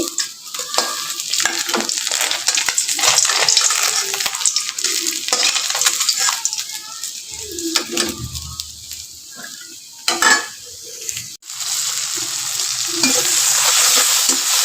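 Onion and a bay leaf fry in hot oil in a pan, giving a loud, continuous sizzle with bursts of scraping as they are stirred, and no talking.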